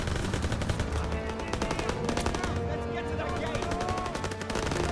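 Rapid automatic gunfire from Call of Duty WWII on PC, a dense, continuous stream of shots with some mixed game noise and no pauses.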